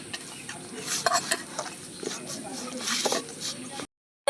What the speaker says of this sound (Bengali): এবারে জল দিয়ে দেবো আলু মাখা একটু বিট জল দিয়ে দিই